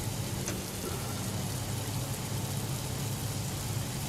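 Steady rain in the video game Prospice, a dense, even hiss of falling drops that fills the whole stretch without pause or change, loud and close, with no voices over it.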